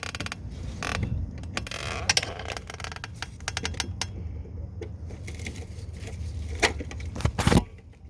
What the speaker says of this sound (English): Finish taking the hose clamp off.